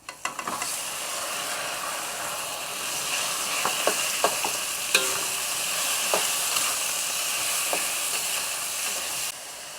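Pork hisses and sizzles in a hot pan while being stirred, a steady, close frying roar punctuated by sharp spatula clicks and scrapes, with no one talking.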